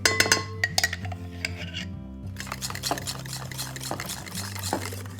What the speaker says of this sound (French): On met la crème fraîche dans le saladier.